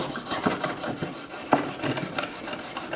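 Knife blade drawn repeatedly across sandpaper on a homemade Apex-style sharpener, steady rhythmic rasping strokes up close, each with a gritty scrape, with no talking.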